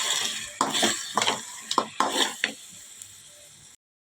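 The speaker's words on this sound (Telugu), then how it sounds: "ఇలా మటన్ అంతా వేసుకొని ఒకసారి ఇదంతా ఇట్లా కలుపుకోవాలి." Mutton tossed into hot tempering and stirred in a pan, with bursts of sizzling and scraping spoon strokes in an uneven rhythm, close up, ending in silence.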